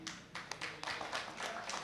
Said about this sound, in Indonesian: Tepuk tangan dong, gak apa-apa, respect,